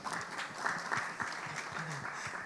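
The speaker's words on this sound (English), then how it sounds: "So big round of applause to Devansh, please, everyone." A panel discussion audience claps for Devansh, a sustained round of applause at moderate level with a few louder individual claps standing out through the steady patter.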